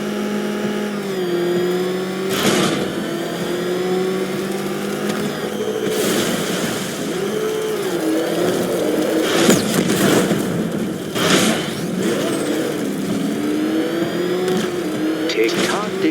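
The Batmobile in Batman Arkham Knight roars with a loud, continuous engine drone that rises and falls in pitch as it revs, with sharp crashes and bursts breaking in over it and a voice talking along.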